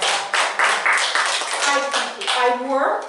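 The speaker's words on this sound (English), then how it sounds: "That deserves a round of applause." Applause for a speaker at a women's business event: a smaller group claps in close, bright bursts that swell and dip, with a voice briefly joining near the end.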